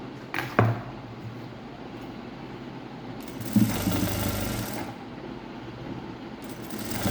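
A sewing machine stitches a puff sleeve in two short runs, a longer whirring burst in the middle and a brief one near the end, over quiet room background.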